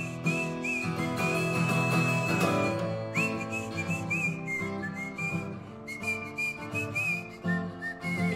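A person whistles a wavering melody, clear and close, with soft music or background tones underneath.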